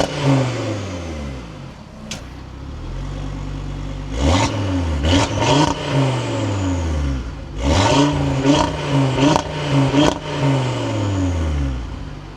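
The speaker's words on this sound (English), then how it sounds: "inside the 2025 Audi RS3, keep my foot on the brake, we can go ahead and fire it up" A 2025 Audi RS3 starts up close by, its engine catching and then flaring in several sharp revs that rise and fall before settling to a steady idle.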